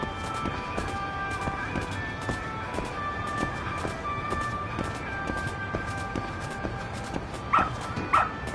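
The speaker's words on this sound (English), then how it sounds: "Good dog. Very good dog." A dog barks in the Lost Judgment video game, two sharp yips standing out near the end over a steady game soundtrack with rhythmic ambient pulses.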